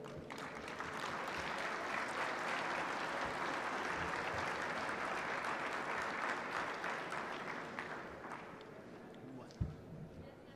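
A conference audience applauds to welcome a speaker, broad sustained clapping from a large room that holds steady for several seconds before tapering off, somewhat distant and even.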